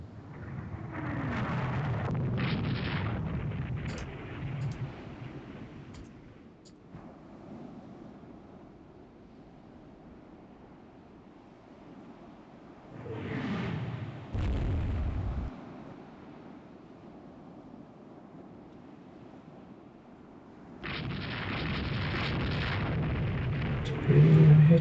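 Naval artillery and shell hits in the naval warfare game Rule the Waves 3: several heavy booming bursts, one near the start, another around the middle and a loud sustained one at the end, separated by quiet low rumble.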